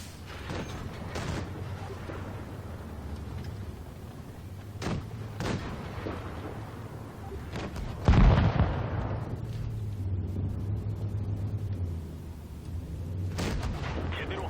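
A tank gun fires in World of Tanks Blitz, the BDR G1 B, with a single heavy boom midway over a steady engine drone, surrounded by sharper distant shots and clanks.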